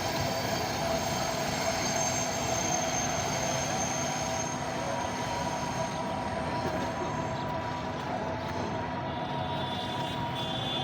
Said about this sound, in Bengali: এখানে দেখেন যে পাশাপাশি দুইটা মেট্রো ট্রেন কিন্তু ক্রস করতেছে